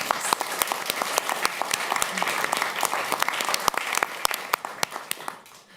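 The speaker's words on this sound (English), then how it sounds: "Give him and Irina one more hand of applause." Audience applause for opera singers at a live event, a steady sustained clapping from a crowd with sharp individual claps standing out, fading away toward the end.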